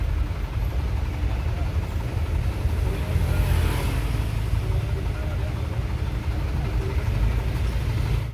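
Cars and trucks idle and creep along in a congested traffic jam, producing a steady low engine rumble with a brief swell of passing noise midway, heard from inside a vehicle without speech.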